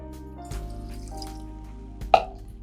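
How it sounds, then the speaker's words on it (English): Tap water runs into a pan for sugar syrup with a soft, steady trickle and gentle ringing tones, then a distinct splashy drip near the end, close and alone. "you're going to add 300 ml of tap water"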